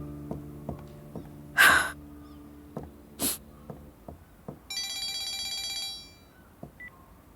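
A phone rings in a few short bursts of bright electronic tones, after some scattered clicks and two sharp noisy bursts, in a quiet room.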